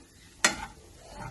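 A spoon is stirred through frying anchovies (netholi) in a pan: one sharp scrape, then a soft hiss and sizzle that trails off, heard close by and alone.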